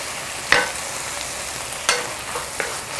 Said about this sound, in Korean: 이렇게 오래 볶으면 이 색깔이 무말랭이에 처음에는 겉돌거든요. 이제 볶으면 볶을수록 이 색깔이 무말랭이에 스며들어요.